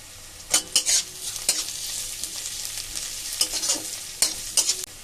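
Onions, garlic and green chilli fry in a pan, giving a soft steady sizzle broken by several loud scraping stirs; no one talks.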